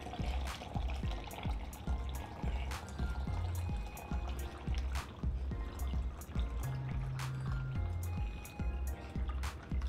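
Water poured over coffee grounds for cold brew, a continuous splashing and trickling stream with dripping, fairly close and steady throughout.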